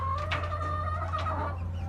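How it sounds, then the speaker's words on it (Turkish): Village chickens clucking close by, a few soft repeated clucks over a low steady hum, no voices. "Köy tavukları. Geneli köy tavuğu zaten."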